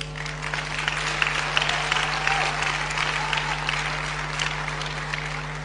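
Church congregation applauding during a sermon, a steady sustained wash of clapping from many hands at moderate distance, with a constant low electrical hum underneath.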